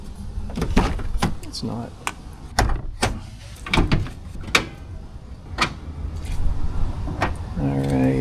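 A first-generation Honda CR-V door is opened with a few sharp latch clicks and thumps, someone talking briefly between them, and an engine-like hum rising near the end.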